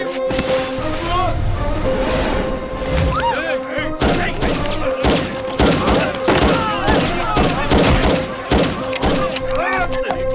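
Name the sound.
gunfire in a film scene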